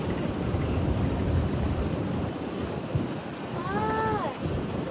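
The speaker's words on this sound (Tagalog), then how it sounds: "Pakahangin ngayon dito." Strong wind buffets the microphone with a constant roaring rush, and a faint distant whistle-like tone briefly rises and falls near the end.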